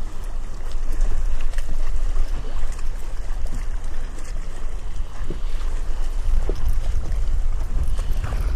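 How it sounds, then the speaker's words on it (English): Wind buffets a microphone outdoors on a fishing boat, a steady loud rumbling roar with gusty swells throughout and no voices. "Sorry for the wind noise."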